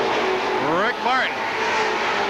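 Stock cars race at Seekonk Speedway in 1984, their engines roaring loud and close in overlapping pitch sweeps as they pass, under continuous announcer commentary.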